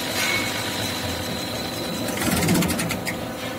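A diesel injection pump test bench motor runs with a continuous close mechanical whir and light clatter, steady for a few seconds, alone with no talking.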